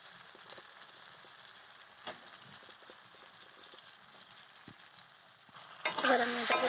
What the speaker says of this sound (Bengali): আমি এখানে দিয়ে দিয়েছি আদা জিরে লঙ্কা বাটা, আর সঙ্গে দিয়েছি টমেটো নুন হলুদ দিয়ে আমি এটাকে সুন্দর করে কষিয়ে নেব।